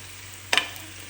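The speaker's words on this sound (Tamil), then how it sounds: "இப்போ நல்லா கிண்டிக்கலாம்" A single brief scrape of a spoon stirring paneer masala sandwich stuffing in a pan, a short burst of sizzle and scraping, close and fairly loud, then quiet.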